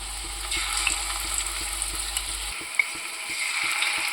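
Onion slices frying in hot oil for chicken biryani give a continuous close hiss and crackle, with a low hum underneath that drops away halfway through.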